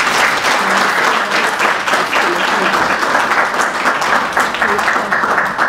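Audience at a social accountability conference gives a sustained round of applause, loud and steady dense clapping filling the whole stretch with no voices on top.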